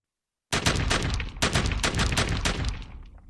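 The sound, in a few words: gunfire sound effect in audiobook narration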